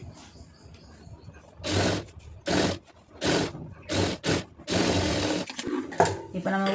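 A tailor's sewing machine stitches along the fold of a waistband band in several loud, short bursts separated by pauses, with soft background sounds between runs.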